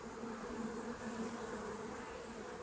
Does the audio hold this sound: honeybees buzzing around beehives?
yes